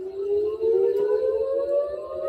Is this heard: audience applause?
no